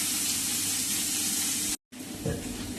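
Onion and carrot sauté in a hot pan, giving a steady, close sizzle that is briefly cut off by a short silent gap before it resumes with some stirring.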